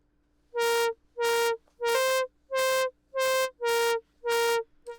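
A buzzy synthesizer tone in Reason pulses in seven evenly spaced bursts, its LFO-modulated filter sweeping open and shut in a steady rhythmic wobble.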